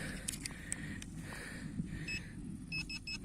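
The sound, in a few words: metal detector beeping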